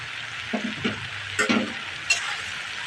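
Water spinach and fried lentils are stirred together in a frying pan. A steady sizzle runs throughout, broken by a few short scrapes and clinks of the spoon against the pan.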